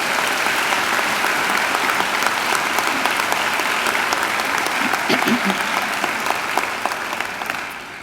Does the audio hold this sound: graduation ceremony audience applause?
yes